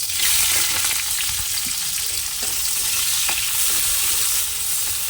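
Steady, continuous sizzle of food frying in a pan, close and fairly loud, with occasional stirring scrapes and no voices.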